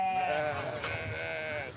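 A goat bleats on a farm in one long, wavering cry that rises and falls in pitch. It is close and fairly loud, with no talking.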